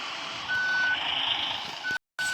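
A bus backing up gives off a steady electronic reversing beep over a broad engine and street noise, with a brief dropout near the end before the tone returns.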